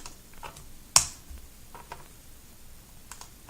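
Keys on a computer keyboard tapped while entering an Excel formula: a handful of sparse, quiet clicks with one sharper keystroke standing out, close by, with no voices over them.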